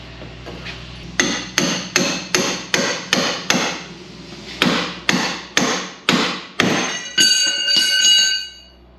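A hammer strikes metal about fifteen times in a quick, fairly even rhythm, loosening a lower ball joint on a Chevy/GMC; each blow is loud, close and rings briefly, with the last few blows running together into a sustained metallic ring.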